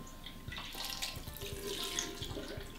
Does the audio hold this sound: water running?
yes